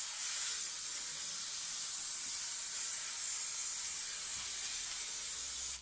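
Glue sprayed over a wire fairy wing frame, a steady, soft hiss of the aerosol running for several seconds without pause.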